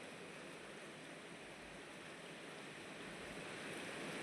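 Rain falls steadily outdoors as an even, faint hiss that stays constant for the few seconds heard, with no voices over it.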